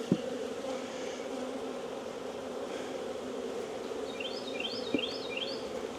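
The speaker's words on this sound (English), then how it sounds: "We'll drop these bees right in here." Steady, close buzzing of many honey bees from a swarm being dropped into a hive, a continuous hum with a few brief bumps and faint higher chirps late.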